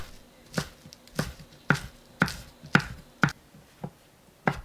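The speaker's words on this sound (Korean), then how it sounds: "깻잎은 채 썰어주세요." A knife slices perilla leaves into thin strips on a cutting board, with about nine crisp, evenly spaced taps landing close by at a steady rhythm.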